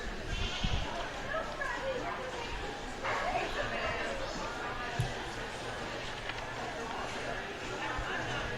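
Goats bleat at a junior livestock goat show during a Class 4 judging, with the calls partly buried under a busy crowd and a voice speaking throughout.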